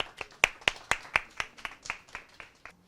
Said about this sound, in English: Please help me welcome with a round of applause, Hanele Hupanen.